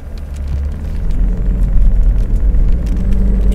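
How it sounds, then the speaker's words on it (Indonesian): A Lexus GX body-on-frame SUV drives on a race circuit, its engine and road noise a loud, continuous low rumble that swells as the vehicle accelerates, with no talking. "Oke, sekarang kita masuk sirkuit bersama si Lexus GX."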